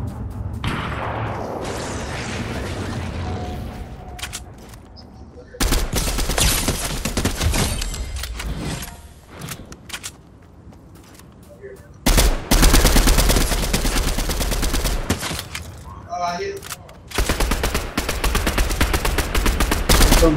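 Bursts of rapid gunfire from a shooter video game in a duos match, loud and dense, arriving in several clusters separated by brief quieter gaps with faint background game noise.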